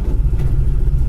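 A 1964 Chevy Nova engine idling, a close, loud, low rumble with a steady uneven pulse, nobody talking.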